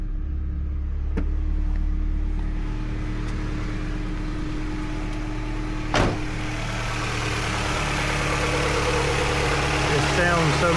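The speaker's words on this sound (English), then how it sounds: "The car runs a lot better now." A repaired 2005 Mazda MX-5 Mazdaspeed engine idles with a steady low rumble, close and constant, broken by a single sharp click midway; faint talk sits beneath it.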